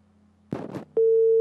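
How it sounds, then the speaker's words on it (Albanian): A telephone busy signal on a television call-in line, a steady tone starting abruptly after a brief burst of line noise, loud and close. "dikush i bie telefonit dhe largohet ose ndoshta ka një problem telefoni"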